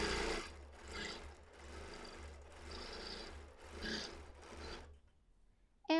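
A quilting machine stitches a pointy feather pattern, a steady rapid mechanical whir pulsing in about four bursts as the needle speed changes, then stopping near the end.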